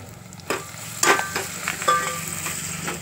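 Tomatoes go into a pan of frying onion for masale bhat, a moderate sizzle that rises as they land, followed by a few stirring scrapes and clinks.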